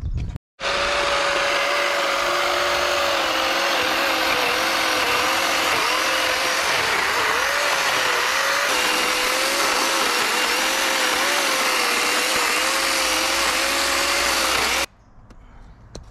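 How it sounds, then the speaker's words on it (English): A chainsaw trims the top of a backyard dirt berm shaped like a shark fin, running as a loud, steady close-up whine with slight pitch wobbles for about fifteen seconds before cutting off abruptly. "try and whip the top off with the chainsaw before we've shaped it all"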